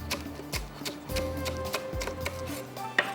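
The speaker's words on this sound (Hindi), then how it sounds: "साथ में हरी मिर्च बारीक काट के डाल देती हूँ मैं इसमें।" Knife chopping green chilies finely on a board in a home kitchen, a handful of quick irregular taps, fairly quiet, with faint background hum.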